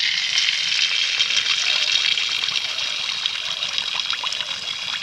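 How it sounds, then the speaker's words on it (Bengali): A ladle of rice-flour batter frying in hot oil in a wok, producing a loud, close, continuous sizzle and bubbling that eases slightly toward the end. "এই চামচের মাপ করে এক চামচ ব্যাটার নিয়ে আমি কড়ার মাঝখানে দিয়ে দেবো"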